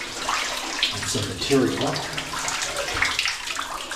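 Water pours over a small dam inside an abandoned copper mine, a constant rushing splash close by, with someone talking over it.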